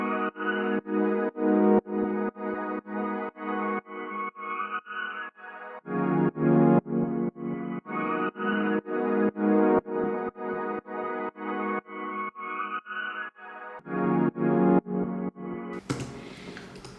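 A beat melody built in FL Studio with the Kickstart plugin plays on its own, repeating in even pulsing bars with a rhythmic ducking swell, loud and steady, with a brief noisy burst near the end.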